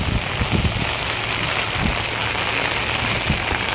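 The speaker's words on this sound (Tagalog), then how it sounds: "Ang lakas ng ulan no." Heavy rain pours steadily on a harbour square by Manila Bay, a dense, even hiss of drops drumming on surfaces close by, loud and unbroken throughout.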